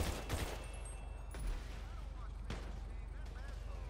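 Gunfire in GTA Online, several sharp bursts and shots crackling amid a continuous low game rumble, with faint distorted game chatter in the background.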